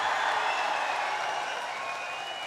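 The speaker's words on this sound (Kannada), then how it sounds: "ಜೋರಾದ ಚಪ್ಪಾಳೆ" A large audience at a public ceremony for a bridge inauguration, giving a standing ovation: dense, sustained applause filling the scene at steady loudness throughout, tapering slightly toward the end.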